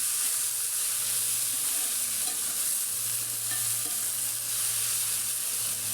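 Kamli greens stir-frying in a pan, giving a steady, continuous sizzle with faint stirring scrapes, loud and close with no talking.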